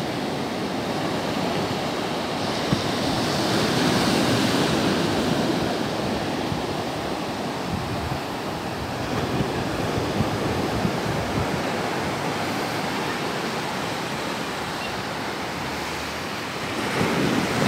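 Ocean surf rolls onto the beach at Praia da Armação in Penha, a steady, loud wash of breaking waves mixed with gusty wind buffeting the microphone for the whole stretch.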